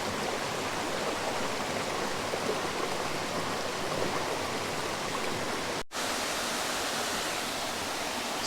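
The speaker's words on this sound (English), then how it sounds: "Here we are now, just approaching the main waterfall." Charco Prieto's main waterfall in Puerto Rico roars in a dense, steady rush of falling water that stays loud and constant throughout, heard up close.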